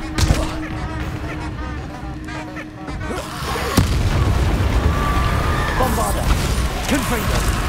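A Bombarda blasting spell goes off in Hogwarts Legacy, a sharp boom at about four seconds followed by loud roaring rumble and debris, with voices and game noise before it.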